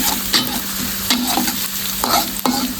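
Garlic and shallots with onion stir-fried in a pan for a tofu and tempeh sauté, a steady close sizzle broken by several sharp scraping stirs of the spatula, with no voices.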